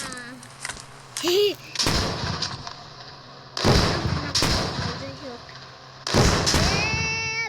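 Rocket launcher blasts in the mobile game Indian Bike Driving 3D: several loud booming bursts spaced a few seconds apart, mixed with whooshing game effects and a voice talking between them.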